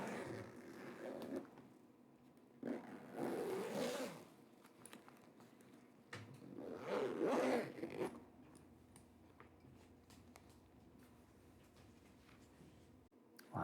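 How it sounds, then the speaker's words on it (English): A suitcase being zipped up in a quiet room, two short scratchy zipper runs a few seconds apart, soft and close with near silence between them. "If I can figure out how to zip it up again."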